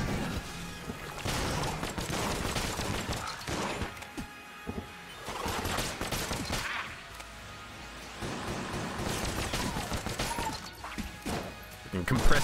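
Shark gun firing in the video game Enter the Gungeon, dense rapid volleys of crashing, thwacking impacts in loud bursts, separated by brief lulls.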